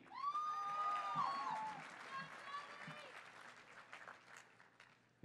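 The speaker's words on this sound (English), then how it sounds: "we welcome your applause for the BA MA class of 2015" Applause from the audience at the Claremont McKenna College 2015 commencement, greeting graduates; a dense, sustained clapping that starts loud and slowly fades, with voices mixed in.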